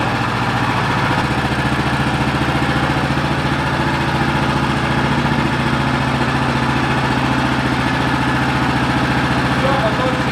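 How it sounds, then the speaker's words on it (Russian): A Wood-Mizer LX55 sawmill's engine runs at a steady close idle, a loud continuous buzzing drone that shifts pitch slightly early on, with a voice speaking over it. "Все, моторчик робить."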